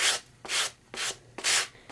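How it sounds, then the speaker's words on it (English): A fine-grit woodworking sanding block rubs around the edges of a small piece in four quick, rhythmic strokes, close and crisp, with brief pauses between each pass. "And I sand around all the edges."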